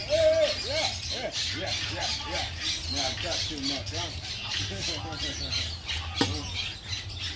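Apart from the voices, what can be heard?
birds chirping in a garden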